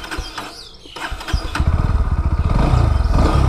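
A 2021 Bajaj Pulsar NS 160 BS6 motorcycle cranks and fires up close by, its engine catching after a brief starter whirr and settling into a steady, rhythmic idle thump.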